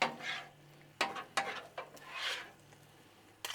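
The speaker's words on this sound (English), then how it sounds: "Let's get all this stirred in." A utensil scrapes and stirs chicken stir fry on a Blackstone griddle, several distinct sweeping strokes and taps over a soft sizzle, close and alone.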